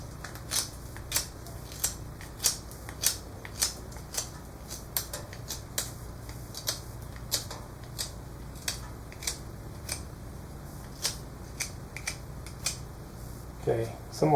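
A knife whittles a wooden dowel into a taper with a steady run of crisp, evenly spaced shaving strokes, about one each half second, close and clear over faint background hiss.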